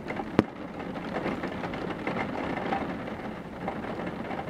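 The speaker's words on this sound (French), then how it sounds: "Oh la vache, l'orage s'éloigne, hein." Steady rain pours during a strong thunderstorm in Amboise, a soft continuous wash with one sharp crack near the start and dull rumbles underneath, fairly faint and with no talking.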